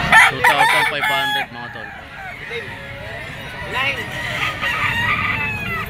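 Bull stag gamecock crowing close by, one long loud crow followed by clucking among other fowl, with someone talking over it.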